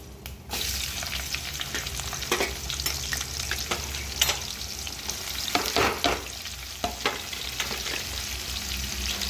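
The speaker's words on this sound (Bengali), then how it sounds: "পেঁয়াজটা ভাজা হোক" Loud, steady sizzling of onions frying in hot oil, broken by occasional scraping stirs close up; no one speaks.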